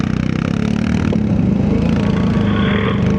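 A quad bike fitted with a sport exhaust revs hard outdoors in winter, a loud, continuous, rough engine roar held close by for the whole stretch.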